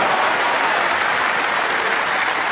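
Loud, sustained applause from a snooker crowd greeting a shot during a maximum-break attempt, a dense steady wash of clapping throughout.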